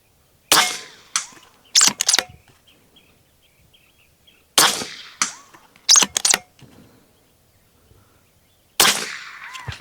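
Several sharp, loud shots from a Macavity MA2 .25 caliber air rifle, each a crisp crack with a short tail, spaced irregularly with quiet gaps between them, the last cluster ending in a dry fire.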